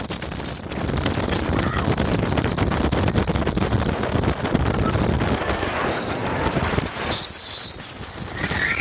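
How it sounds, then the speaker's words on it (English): Strong wind buffets the microphone outdoors, a steady loud rumbling roar that lasts throughout with little letup. "The wind is taking my shirt off."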